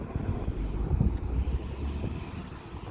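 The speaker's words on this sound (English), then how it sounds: "I think it's too windy to try to do this feature today." Strong wind buffets the microphone in a steady, heavy low roar that rumbles on without pause, with no voices.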